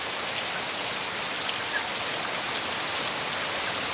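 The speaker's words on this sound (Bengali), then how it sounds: "অনেক বৃষ্টি।" A heavy downpour on a rooftop roars as a thick, constant wash of noise, close and loud, with no talking and no letup.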